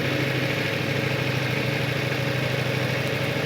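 A motorcycle engine running steadily during slow circle and figure-eight riding practice, a constant mid-pitched drone close by with no talk over it.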